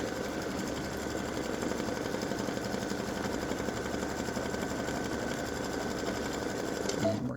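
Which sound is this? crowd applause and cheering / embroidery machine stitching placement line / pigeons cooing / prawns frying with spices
embroidery machine stitching placement line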